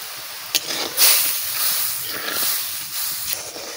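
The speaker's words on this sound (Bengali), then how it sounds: "বন্ধুরা দেখো কত সুন্দর তরকারি ঝোল ফুটতেছে।" Spicy curry gravy for snakehead fish bubbles over a wood fire, giving off a steady steamy hiss with soft bursts and pops rising and falling for several seconds, close up.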